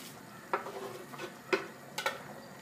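A spoon stirring a boiling tomato sauce with onion and herbs in a pot, giving a few soft, separate scraping clinks over a quiet simmer.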